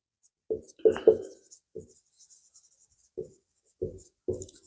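A pen or chalk scratches across a board during a class 10 science lesson on refractive index. The short, quiet strokes come in separate bursts with pauses between them.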